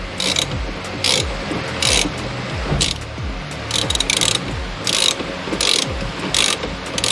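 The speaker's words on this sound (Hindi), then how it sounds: "मैं ये स्टीयरिंग असेंबली का जो नट है ये मैं टाइट कर रहा हूँ" A hand ratchet tightens the steering assembly nut on a Nissan 350Z during a Sparco steering wheel and NRG quick release install, giving steady repeated clicking strokes at close range, each stroke a short burst of metallic ticks.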